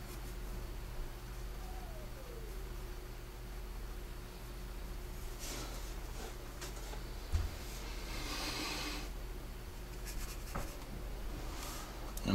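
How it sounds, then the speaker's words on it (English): A 2H pencil moves across paper while drawing a Bugatti Veyron supercar, a soft continuous scratching and rubbing close up with a few sharper strokes, no talking. "I'm using a 2H pencil."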